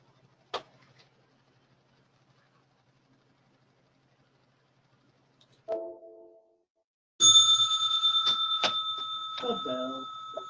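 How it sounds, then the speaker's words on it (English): A trading-session bell rings near the end, a loud sustained tone with bright overtones and repeated strikes, following a short earlier chime and a brief voice. "The bell."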